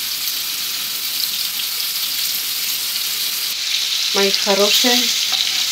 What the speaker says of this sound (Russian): А это пускай у меня жарится.